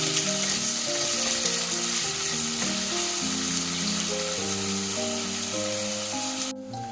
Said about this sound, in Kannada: ನೋಡಿ, ಈರುಳ್ಳಿ 5 ನಿಮಿಷದಿಂದ ಚೆನ್ನಾಗಿ ಫ್ರೈ ಆಗಿದೆ.